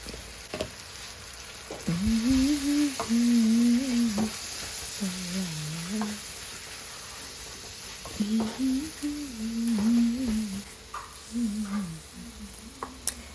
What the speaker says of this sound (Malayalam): മുളക് പൊടി പിന്നെ മഞ്ഞൾപ്പൊടി കുറച്ച് മഞ്ഞൾപ്പൊടി എടുത്തിട്ടുണ്ട് ഇത് നന്നായിട്ട് തന്നെ ഇളക്കി കൊടുക്കുക